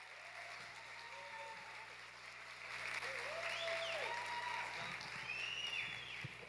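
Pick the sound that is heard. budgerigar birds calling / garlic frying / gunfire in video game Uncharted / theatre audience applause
theatre audience applause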